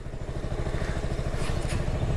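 A KTM Duke 200 BS6 motorcycle running with its silencer removed, a loud, raw, rapid engine putter close by, steady for a couple of seconds with no voices.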